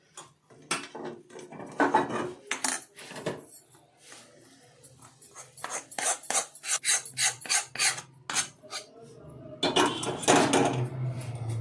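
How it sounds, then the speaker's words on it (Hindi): A spatula scrapes and rasps against a pan while dry fruits are stirred into melted jaggery, giving a steady run of rhythmic scraping strokes, close and fairly soft, with no talk. "अब हम इसमें इसको अपने ड्राई फ्रूट्स के साथ मिक्स कर लेते हैं।"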